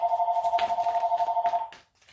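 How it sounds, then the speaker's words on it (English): A phone rings with a steady warbling electronic tone, repeating in quick even pulses for under two seconds before cutting off into quiet, fairly loud and close with no talking over it. "Sorry, my phone's ringing."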